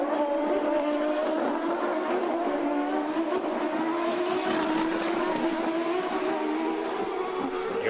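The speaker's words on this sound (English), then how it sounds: "Hear the sputtering sound from the engines. It indicates the traction control is working." IndyCar race cars at the 2002 Grand Prix of Denver street circuit, engines droning steadily with a wavering, stuttering tone as traction control cuts in, loud and continuous with crowd and track noise behind.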